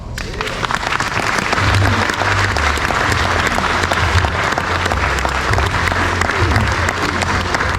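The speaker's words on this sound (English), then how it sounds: "Another nice round of applause." Sustained applause from wedding guests fills the room right after a reading, steady and loud throughout, with crowd murmur and a low hum or music underneath.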